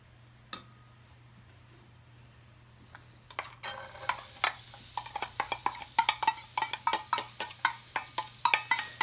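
Shallots dropped into a hot oiled pan, starting with a few clinks before a sudden sizzle rises, then continuous frying crackle with repeated scraping and stirring taps of a utensil against the pan.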